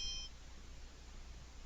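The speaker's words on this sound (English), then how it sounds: "Oh, sorry, my phone's beeping." A mobile phone beeps near the start, a short cluster of thin, high electronic tones lasting a fraction of a second, followed by a quiet indoor room hum with no talking.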